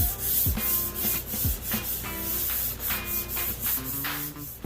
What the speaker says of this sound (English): So I'm just going to lightly sand on it. I'm not putting a lot of pressure.